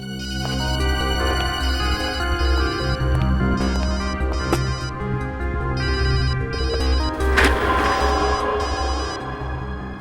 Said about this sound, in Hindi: घंटी तो लैब में बज रही है